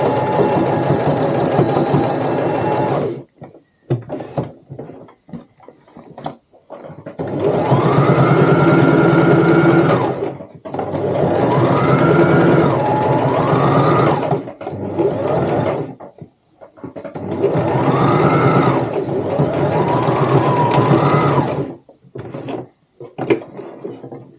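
A sewing machine stitches through the thicker layers around a tote bag's sewn-in pocket, running in loud, close bursts of steady whirring separated by pauses and brief handling noises.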